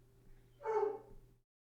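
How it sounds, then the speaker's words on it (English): A dog gives a single short bark or yelp that trails into a brief whine, fairly close, over a quiet hum before silence. "That's my dog."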